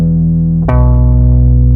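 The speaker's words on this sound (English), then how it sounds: "Second, bass guitar." Deep sustained bass guitar notes, shifting to a new low pitch partway through, loud and close with nothing else playing.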